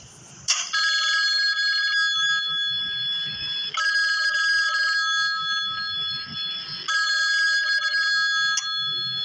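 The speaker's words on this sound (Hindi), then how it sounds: "अचानक फोन की घंटी बजी।" A loud electronic telephone ring sounds in three long sustained bursts, each separated by a brief pause, close and clear with no talking.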